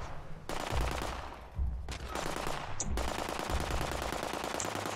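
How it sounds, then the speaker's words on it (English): Liberator robots open fire in Fallout 76, a dense, continuous rattle of automatic gunfire with brief bursts and gaps, close and loud throughout. "Oh, I'm getting shot at."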